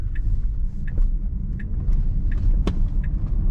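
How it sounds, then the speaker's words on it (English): Inside a Tesla on Full Self-Driving pulling away from an intersection in Madison, Wisconsin, a low steady road rumble fills the cabin, with faint repeated ticking clicks, and no talking. "I'm hitting the accelerator because we can go."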